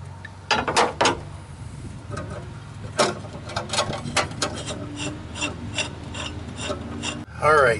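A stuck lid being worked off a container during a fuel injector cleaning job on a Ford F250, heard as repeated grinding, rasping twists and clicks at close range with no talking.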